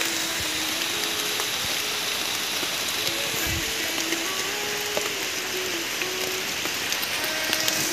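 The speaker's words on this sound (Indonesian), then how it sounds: "Hujan teman-teman." Steady rain falls in a forest where a large tree has come down, a continuous broadband hiss of drops on leaves and ground lasting throughout, with no voices.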